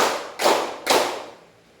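A classroom group claps together on cue during a teaching practice drill, producing three crisp, evenly spaced unison claps at close range, each decaying quickly, with the last trailing off into near silence.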